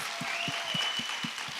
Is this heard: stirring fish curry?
no